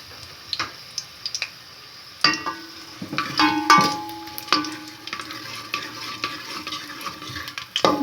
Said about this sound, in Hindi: मैंने इसमें लहसुन डाल दिया है। हमारा लहसुन हो रहा है।